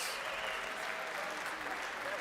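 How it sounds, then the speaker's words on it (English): Applause for both boxers after a six-round professional women's boxing bout, a steady, full-bodied crowd clapping that fills the arena evenly throughout, with faint voices mixed in. "Can we please have a big round of applause for both of our boxers?"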